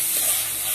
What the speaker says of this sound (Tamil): கருவேப்பிலை பூண்டு இதெல்லாம் நல்லா மணமாக வதங்கிட்டு இருக்கு.